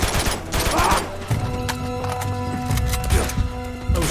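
Pistol fire in Uncharted 2 during a jungle guerilla firefight, with repeated sharp shots scattered across the clip over a steady background music bed, close and loud.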